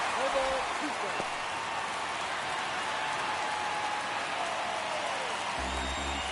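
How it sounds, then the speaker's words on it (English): Baseball stadium crowd noise in MLB The Show 23, during a ninth-inning Giants at Padres wild card game at the Padres' ballpark: a steady, dense roar and murmur of fans that holds throughout, with broadband wash and faint whistles. "Crowd locked in right now."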